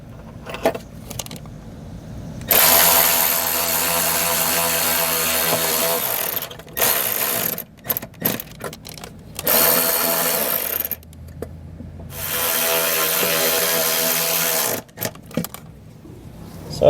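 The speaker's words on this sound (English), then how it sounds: "And I'm going to mount it using the provided self-tapping screws." A power driver sinks self-tapping screws to mount an RV trailer brake controller kit part, with loud sustained whirring runs of several seconds broken by short pauses and rattling bursts, close and alone.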